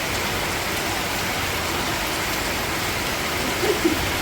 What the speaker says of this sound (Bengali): ভীষণ বৃষ্টি হচ্ছে ড্রেন ট্রেন ভর্তি হয়ে গেছে আমাদের আর এই দেখো কিরকম জল স্রোতের বেগে যাচ্ছে